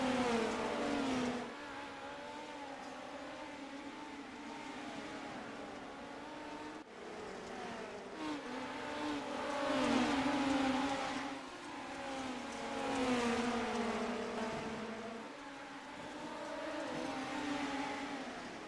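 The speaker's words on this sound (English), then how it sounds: "keep these small engines wound up and keep those RPMs up" Midget race cars at I-55 screaming around the track, small high-revving engines rising and falling in pitch as they pass, several cars overlapping in a steady drone that swells and fades, heard from a distance.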